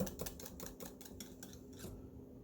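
A large whisk beats yellow cold process soap batter in a container, giving faint, quick rhythmic clinks and scrapes of metal against the sides, with no talking.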